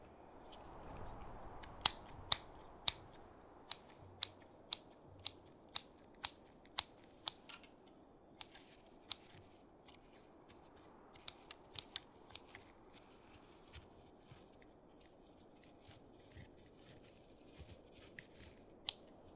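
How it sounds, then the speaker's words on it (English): Scissors snip through fabric for an improvised leg bandage in a Last of Us themed roleplay, giving a series of sharp, close clicks and crisp cuts in irregular bursts over a soft, quiet background. "Just keep pressure on that for a second while I cut up some fabric, alright?"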